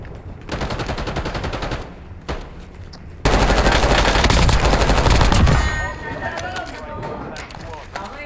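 Rapid automatic gunfire rattles in a shooting video game, loud bursts in two long stretches with a brief gap between them and a quieter tail, while a voice talks over the shots.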